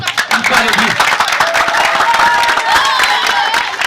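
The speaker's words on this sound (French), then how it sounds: "On applaudit pour M." Dense audience applause at a ceremony, steady clapping throughout with crowd noise and some speech over it.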